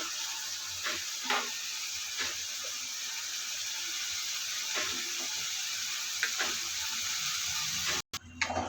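Pangas and tengra fish frying in hot oil in a pan, a steady, close sizzle and hiss that holds evenly throughout with a few soft clicks and crackles, no voices.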